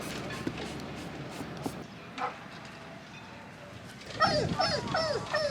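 A dog whimpers and yips in a quick series of high cries near the end, after a stretch of muffled outdoor noise with scattered thumps at a boatyard during a catamaran refit.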